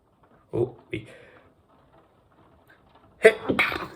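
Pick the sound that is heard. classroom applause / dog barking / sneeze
sneeze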